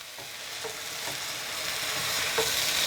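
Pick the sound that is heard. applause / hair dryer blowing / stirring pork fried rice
stirring pork fried rice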